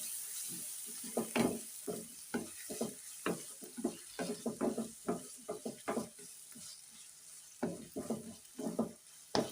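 Spices sizzling in hot oil in a pan with ginger-garlic paste, salt and turmeric, stirred in repeated sharp scraping bursts over a steady frying hiss, close and fairly loud.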